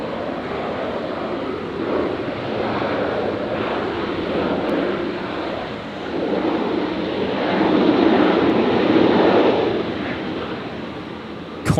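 An airliner taking off from runway 01 right at Brisbane International Airport, heard as a broad, distant roar that swells and grows heavier toward the end, mixed with wind noise and no speech.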